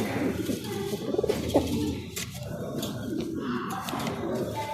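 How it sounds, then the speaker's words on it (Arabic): Pigeons cooing in a loft, several soft low coos repeating close by over a continuous bed of bird noise, with a person talking over them. "تعالوا بقى اوريكم هل الحمام الوطاطي بيزق ولا لا"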